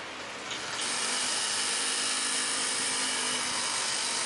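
A Darrieus vertical axis wind turbine with Magnus-effect rotors spinning up during a test, a broad steady whirring rush that swells sharply after a second and then holds loud and constant.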